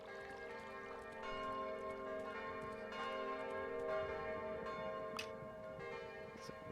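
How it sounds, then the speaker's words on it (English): Church bells ring out to mark the start of a new day in the video game Kingdom Classic, a steady sustained peal with layered ringing tones and occasional brighter strikes over a low ambient bed. "So those bells must tell you that it's a new day."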